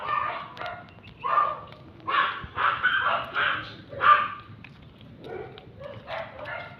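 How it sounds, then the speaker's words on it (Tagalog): Several dogs bark in bursts near and mid-distance, a noisy pack yapping repeatedly over about seven seconds while people talk over them. "Maingay yung mga aso guys"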